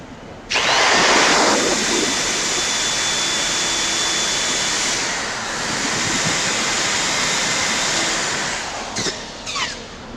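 An acrylic bottle stopper spinning on a lathe is sanded with 80-grit paper, a loud continuous hissing whir that begins abruptly, holds steady with a brief dip midway, then fades near the end under a few small knocks, with no speech.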